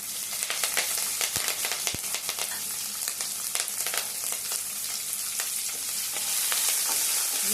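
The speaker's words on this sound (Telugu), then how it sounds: "రెండు పచ్చిమిరపకాయలు కట్ చేసి వేసుకుంటాం." Chopped green chillies fry in hot oil in a pan, tempering for a milk and ridge gourd curry. A steady, close, crackling sizzle runs throughout, with sharper pops and no voices.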